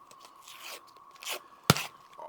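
A metal griddle scraper cutting cinnamon rolls on a Blackstone griddle makes a few soft scraping strokes, then one sharp, crisp tap of metal on the flat top, all fairly quiet and close.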